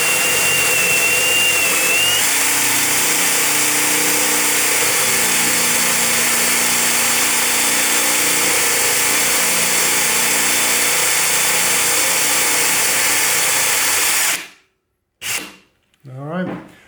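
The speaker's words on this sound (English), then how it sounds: "Lucky last one, 13mm drill bit." A power drill fitted with a 13mm bit bores into melamine board with a loud, steady whirring grind that runs for about fourteen seconds, then stops abruptly, followed by a couple of brief knocks.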